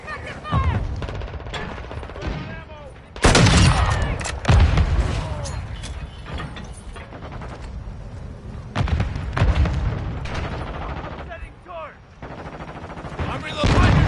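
Gunfire from the video game Modern Warfare 2 erupts in loud bursts of automatic shots and booms, with heavy volleys near the start and middle and voices shouting between them.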